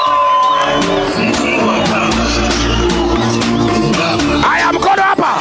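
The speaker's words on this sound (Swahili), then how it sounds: "Wapi makofi tafadhali?" A political rally crowd in Kenya cheers and whoops loudly and without a break, with shouts and some scattered voices rising over a dense, steady roar.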